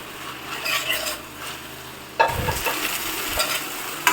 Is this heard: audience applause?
no